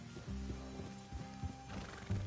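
Horses in Red Dead Redemption 2 whinny and snort with a few hoof clops, the calls close and moderate in volume, with a low droning ambience underneath.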